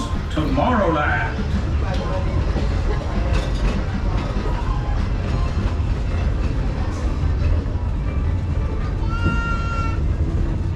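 The Magic Kingdom railroad train rolls along its loop with a continuous low rumble and clatter of the cars. A recorded narrator talks over it the whole time, and a short whistle-like tone comes near the end.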